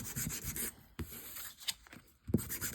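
A playing card is rubbed with fine-grit sandpaper in quick, soft, scratchy strokes. The strokes come close up and fairly faint, in uneven bursts with brief pauses, and no one speaks.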